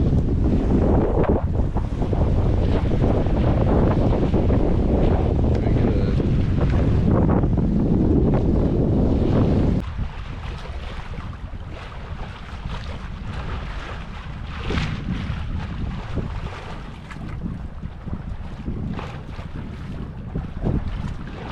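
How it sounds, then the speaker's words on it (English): A sailboat runs on the jib alone at about six knots on Brisbane Water, with loud gusty wind roaring over the microphone for the first half before easing to steadier wind and water noise with scattered rushes. "Getting some nice gusts through here. Doing about 6 knots, just on the jib."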